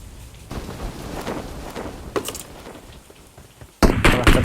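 Rain and thunder ambience inside the video game PUBG Mobile, a steady wash of rainfall with sharp crackling bursts, the loudest arriving near the end, with faint talk in the background.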